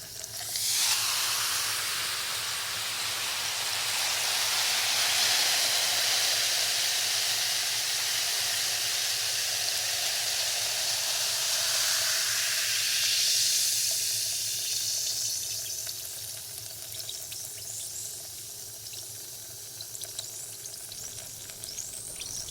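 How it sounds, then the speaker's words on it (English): Fizzing ear-cleaning serum crackles and hisses close to the ear in an ear-cleaning role-play, a dense steady effervescence that slowly thins out over the final seconds. "you can probably still hear that fizzing, right?"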